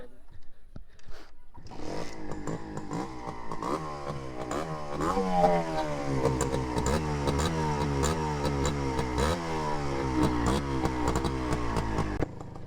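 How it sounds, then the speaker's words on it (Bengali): A Honda H100 motorcycle engine starts with a short cranking burst, then runs close by with a buzzy single-cylinder idle and a few small throttle rises before it cuts off abruptly. "এখন আমরা বাইকের ইঞ্জিন সাউন্ডটা শুনবো, যে বাইকের ইঞ্জিন সাউন্ডটা কেমন"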